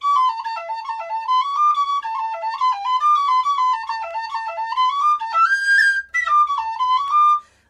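The Mooncoin Jig played on a D tin whistle, a bright, breathy melody of quick running notes in a bouncing jig rhythm, close and loud and unaccompanied, with a brief stumble near the end.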